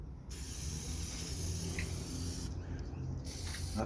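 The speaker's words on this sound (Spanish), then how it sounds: "Esto lo estoy logrando con pinturas en aerosol" Aerosol spray paint hissing onto a sculpture to build an artificial patina, a steady close hiss in two long bursts separated by a brief pause, no talk.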